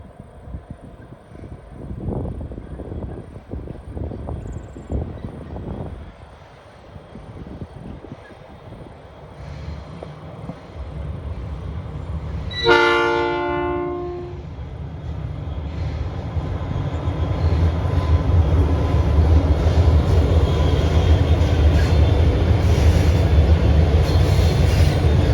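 A train on the Sydney metropolitan freight lines approaches and rumbles past, growing louder into a steady roar of wheels on rails, with a brief horn blast midway.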